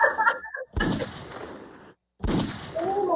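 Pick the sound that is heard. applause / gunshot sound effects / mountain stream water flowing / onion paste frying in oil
gunshot sound effects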